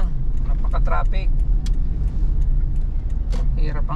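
Heavy traffic on a busy Binondo street: a dense, steady roar of cars and engines close by, broken by scattered clicks and clanks.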